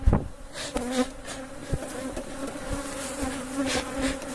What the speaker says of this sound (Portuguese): Mas isso é normal, a agressividade da abelha ali, que a gente tá mexendo com ela.